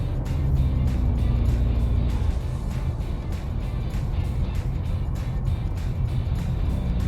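A Ford Mustang High Performance EcoBoost in sport mode drones along from inside the cabin, a steady loud engine and road roar with no clear revving swells and no talking.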